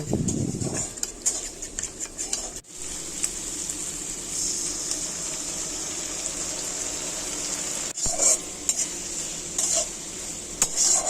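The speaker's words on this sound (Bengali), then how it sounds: "সমস্তটা ভালো করে ভেজে নিয়ে আগে থেকে বেটে রাখা কাঁচা লঙ্কা পোস্তর মিশ্রণটা আমি এবার ঢেলে দেব।" Periwinkles stir-fried in a pan with green chili and poppy seed paste give a steady close sizzle, broken by metallic spatula scrapes and clinks against the pan.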